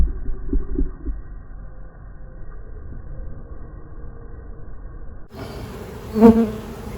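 Honey bees from a package colony, six weeks installed, buzz steadily and close during a hive inspection; the drone grows louder and fuller near the end as the hive is opened, with no talking.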